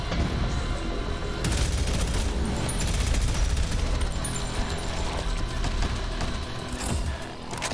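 Shotgun fire in the Prodeus first-person shooter, loud booming blasts layered over dense, continuous combat noise and mechanical clatter with no letup.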